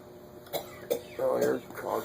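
A few short, harsh coughs and a throat clear, spaced unevenly over a couple of seconds, close by with a faint background hum.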